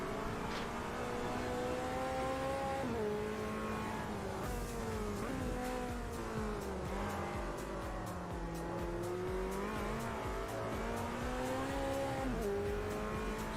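A McLaren race car's engine in the racing game Automobilista 2 drones and revs steadily, its pitch rising and dipping through gear changes, with brief tire squeal and no talking.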